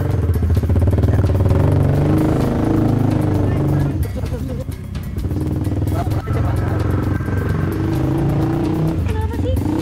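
A motorcycle pulling away with a loud, rough engine drone that rises and falls, close and continuous through the clip.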